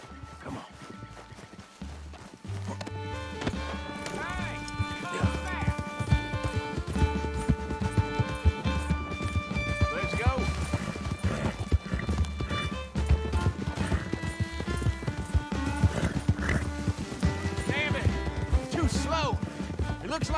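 Horse galloping in the video game Red Dead Redemption 2, fast rhythmic hoofbeats with occasional whinnies, mixed under a musical score and voices talking throughout.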